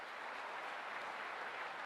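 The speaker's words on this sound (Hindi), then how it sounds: "जोरदार तालियां इनके लिए एक बार बजा दीजिए सर।" Steady audience applause at an annual celebration event for a coaching institute, continuous and moderately loud throughout with no voices standing out.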